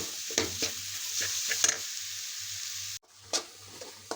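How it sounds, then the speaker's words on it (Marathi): Grated coconut is stirred into melted jaggery in a pan for coconut burfi, with close, quiet scraping stir strokes and a soft sizzle over a low steady hum. "गूळ पगळल्यावर आपण त्यामध्ये हे किसलेलं खोबरं टाकून द्यायचं आहे. सगळं एकत्र करून हलवून घ्यायचं."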